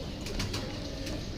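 A pigeon coos in soft low pulses close by, against a constant noisy background hum; no voices.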